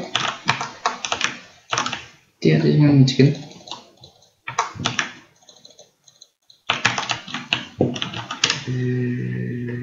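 Computer keyboard typing during a Danish Minecraft session, with bursts of rapid clicking keystrokes close to the mic, broken by pauses and mixed with someone talking over and between them.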